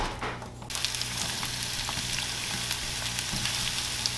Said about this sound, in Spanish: aquí tengo un sartén y voy a estarle friendo cebolla.